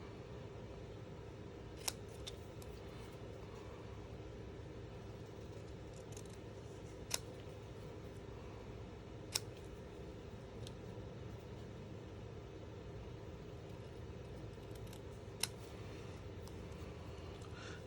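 Scissors snip through paper for a rainbow-and-sunshine stamped card: a few sparse, quiet cuts spread across the span, each a short crisp click over a steady low room hum.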